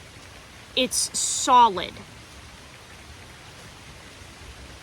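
Heavy rain pours outside as a steady, soft hiss throughout, briefly covered early on by a person speaking.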